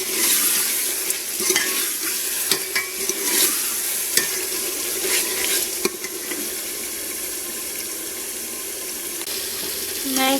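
Quail pieces stir-fried in a pan for a village-style batair dish give a steady, close hiss of sizzling oil, punctuated by irregular scrapes and clinks of a stirring spoon throughout, with no talking.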